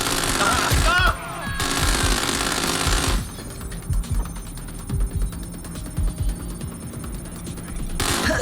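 Gunfire in the video game Watch Dogs: Legion as drones are shot at, a loud burst of rapid shots at first, then quieter scattered shots and mechanical thuds through the rest.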